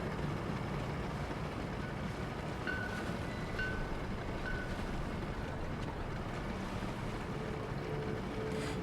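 Steady engine drone of a wooden motorboat in the video game REANIMAL, with water washing and wind noise, continuous and fairly loud throughout, no talking.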